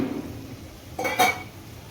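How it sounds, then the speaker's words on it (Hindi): A brief burst of light clinking and scraping around the middle as a spoon stirs a cornstarch and water slurry in a small bowl, with quiet room tone before and after. "बस इस तरीके से इसको मिक्स करके इसकी स्लरी बनाते हैं।"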